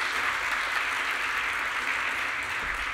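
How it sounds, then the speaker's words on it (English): Audience applause for a panelist at a financial forum in Lugano, a continuous, even roar of many hands clapping in a large hall, steady and fairly loud throughout with no speech over it. "let's give him a round of applause"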